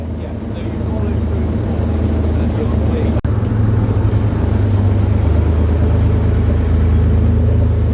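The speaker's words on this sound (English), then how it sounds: "Got a Triumph TR3A coming in next. The Porsche 944 Cabriolet in its wheel tracks." Classic cars, a Triumph TR3A followed by a Porsche 944 Cabriolet, roll in at an outdoor car show, giving a loud, steady engine drone with crowd and ambient noise around it.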